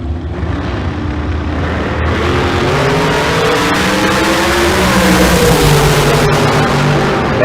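Drag racing cars from the Pacific Northwest roar down the strip at a bracket racing event, a loud sustained engine drone that rises in pitch as they accelerate, with no talk.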